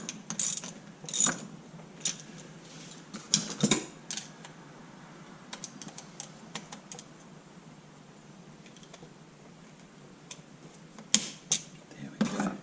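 A ratchet clicks in uneven bursts of sharp, close ticks as it tightens a bolt during a rebuild of a Honda CB125E engine's bottom end, with scattered metallic clacks and faint handling noise between strokes.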